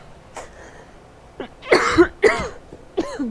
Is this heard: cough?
yes